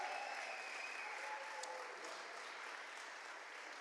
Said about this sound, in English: Can we please give a big round of applause to Liam from Malconig